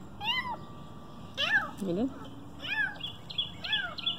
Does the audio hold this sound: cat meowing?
yes